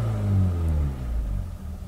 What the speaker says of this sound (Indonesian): kita juga bisa dengar suara mesin